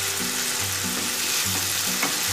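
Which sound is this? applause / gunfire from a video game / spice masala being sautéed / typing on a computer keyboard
spice masala being sautéed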